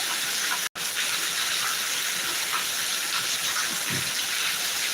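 Heavy summer rain roars in a constant, loud wash of hiss and gush. It cuts out for an instant near the start, then runs on steadily with no talking.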